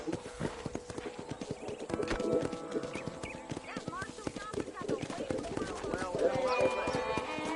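Horse hooves clip-clopping at a ranch in the video game Red Dead Redemption, a steady close rhythm of hoof beats running throughout, with a whinny and voices talking over them.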